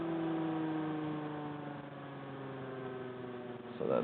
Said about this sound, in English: So that sound is the regenerative deceleration